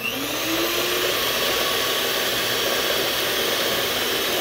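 Electric mixer beating strawberry ice cream, a steady, loud motor whine with a slight rising pitch at the start, running continuously and alone for a few seconds.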